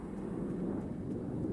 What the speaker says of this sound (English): That sounds like an engine firing up.